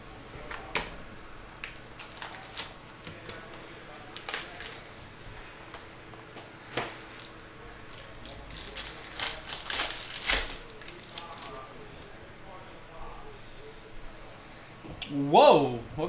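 Packs of 2022 Panini XR football trading cards are torn open, with crisp crackling rips and sharp foil snaps scattered over several seconds, close up, while a person talks throughout.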